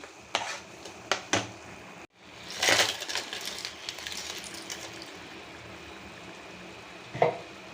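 Crab pieces tipped into hot masala in a pan for a crab gravy, giving a few sharp clanks and scrapes of utensils followed by a steady crackling sizzle and stirring, close and fairly loud with no talk.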